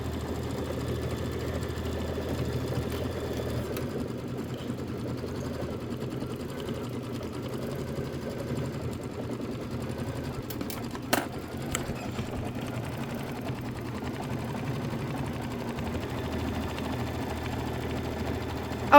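A Kimberbell embroidery machine stitches out a design with a steady, rapid mechanical hum that runs unbroken at moderate volume, broken only by a few faint clicks partway through and no voices.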